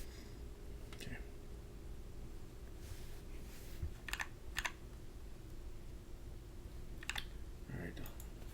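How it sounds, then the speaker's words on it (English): Sparse, irregular clicks of keys being pressed, a few isolated taps spread over a steady low room hum, quiet and close. "Let's hear typing sounds."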